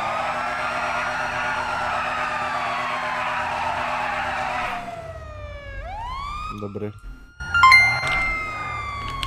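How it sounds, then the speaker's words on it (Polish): Police car siren in the video game GTA V, a loud steady wail that shifts into rising and falling yelps and short electronic bursts, with brief talk near the end. "Radiowóz, radiowóz, radiowóz, radiowóz!"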